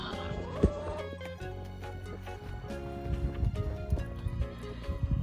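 Horses walking out of a barn shuffle and clop on a hard floor, hoofbeats irregular and fairly close, with some creaking and rustling around them.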